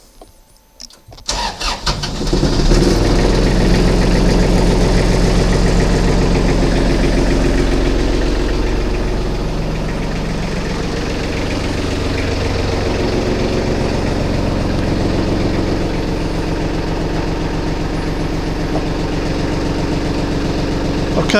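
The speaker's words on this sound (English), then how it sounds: "And turn the engine on." A Weedinator robot's diesel engine, glow plugs preheated, cranks briefly and catches, then settles into a loud, steady low idle with a constant rumble and no talking.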